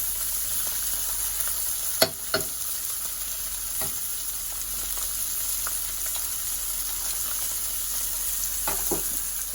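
Onions and garlic sauté in a pan beside meat for molcajete sauce, giving a steady close sizzle with a couple of sharp utensil clicks and stirring scrapes.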